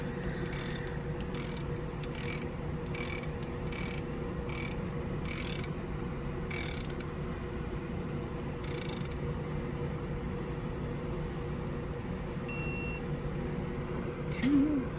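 A torque wrench tightens the main studs on a 1962 Ford Falcon engine, producing a run of sharp repeated ratcheting clicks in bursts and then quieter handling noises, all close with no talk.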